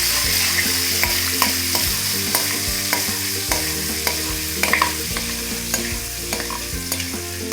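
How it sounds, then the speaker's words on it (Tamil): Butter melts in hot oil in a kadai, giving a loud, dense sizzle with small pops and crackles throughout, set against steady background music. "வெண்ணெய் கரையட்டும்."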